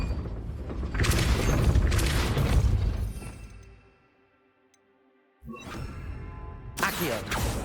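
Depulso spell cast in the video game Hogwarts Legacy, a loud booming magical blast with whooshing and mechanical rumble, fading to near silence before a second burst of game effects returns.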